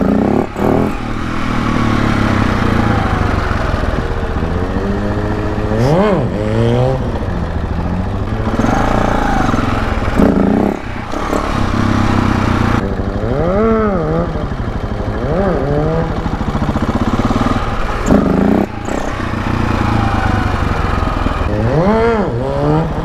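A motorcycle engine revving hard during wheelies, loud and close with repeated rising and falling throttle sweeps over steady wind rumble.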